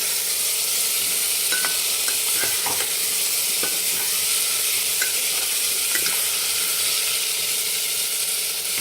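Ridge gourd curry stirred in a pan, loud steady hissing sizzle with a series of quick metallic scrapes and clicks spread through it.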